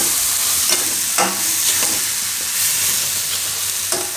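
Kitchen King masala is stirred into cooked tomatoes in a pan, a close, loud sizzle punctuated by several scraping strokes of a spoon against the pan.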